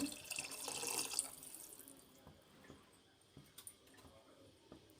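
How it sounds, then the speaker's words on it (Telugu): Water splashes and pours into a pot briefly at the start, then fades into faint drips, clinks and small handling noises nearby. "మూడు గ్లాసులు నీళ్ళు పోసేసుకుందామండి"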